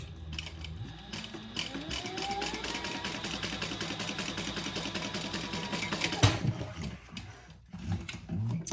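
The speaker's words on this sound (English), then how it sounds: "I'm going to do another row on this bottom here, 1/8 of an inch." A sewing machine stitches a row along the bottom of a crossbody bag, a close, steady mechanical whir with rapid rhythmic ticking that stops briefly, then restarts with a clunk.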